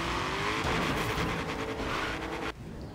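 A hot rod in Forza Horizon 3's Hot Wheels expansion slides sideways with a loud, continuous engine roar and tire squeal, the rasp dropping abruptly near the end.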